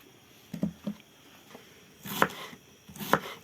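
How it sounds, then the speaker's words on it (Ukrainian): A knife chops through cabbage for Ukrainian borscht in a few quick strokes: two light taps, then two louder crunching cuts, close up with no talking. "Ріжемо капусту і шинкуємо її."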